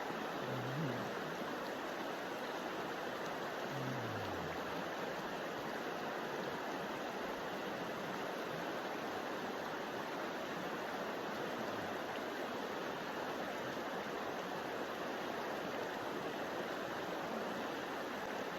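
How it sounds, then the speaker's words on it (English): A camping-side stream runs in a steady, unbroken wash of water, close and even throughout, with a soft lapping quality like water against a dock and no voices. "the water is more, sounds like lapping against a dock type of thing"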